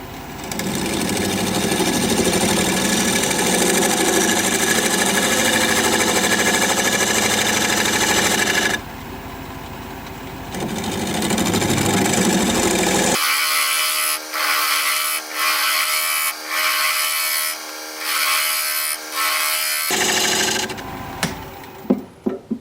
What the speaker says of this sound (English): We're gonna be turning at 780 RPM, 1/2 inch bowl gouge